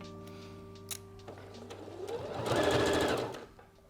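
A sewing machine runs a straight stitch through layered bra fabric, starting with a few slow stitches, then speeding into a steady whirring buzz before slowing to a stop, close and clear with no talking.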